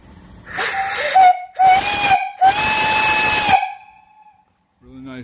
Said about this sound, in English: I'll blow it here if you turn down your volume a little bit.